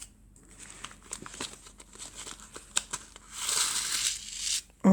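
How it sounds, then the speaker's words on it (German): Plastic foil wrapping crinkles and rustles close up, in irregular crackles and handling noises that build into a denser, louder crinkle near the end, with no talk. "Da haben wir einmal eine Folie."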